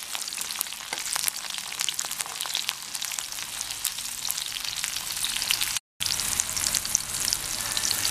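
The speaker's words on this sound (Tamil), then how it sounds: "இதெல்லாம் கொஞ்சம் வதங்கட்டும்." Onions sautéing in a pan for sambar, a bright steady sizzle with scattered crackles and stirring, cut by a brief gap of silence before it resumes.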